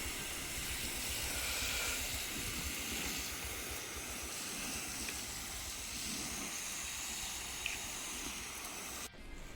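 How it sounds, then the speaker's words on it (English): Water rushes and splashes steadily onto soil in a square-foot raised garden bed, a continuous hissing, crashing stream heard up close with no talking. "the sound of this water is just crashing now"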